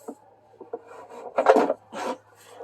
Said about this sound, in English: So the drawer comes right out if you want it to.